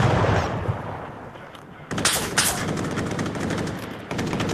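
Outdoor gunfire: a few sharp, loud shots crack close by amid a noisy rumbling background, with echoing bursts spaced over a few seconds.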